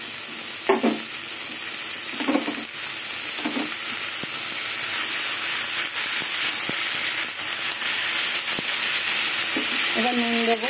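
Mustard greens fry and sizzle in a pan after onions have browned, a steady loud hiss with scattered stirring clinks throughout, no voices.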